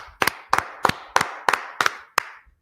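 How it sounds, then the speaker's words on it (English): Seven sharp claps ring out at an even rhythm, close and loud, during a Tuesday brotherhood class, followed by silence. "You gotta clap it up for the Lord."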